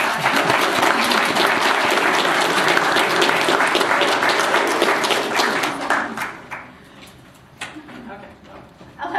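Panel audience at a secularization talk applauds for Angela, lively close clapping for about six seconds that thins out and fades, followed by quieter room sound with a voice speaking near the end.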